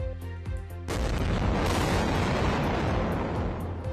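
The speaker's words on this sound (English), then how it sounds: "Gaza is rocked by overnight explosions." Overnight explosions in Gaza: a loud, sustained rumbling roar erupts after a few sharp bangs, filling the scene with heavy, continuous low booming.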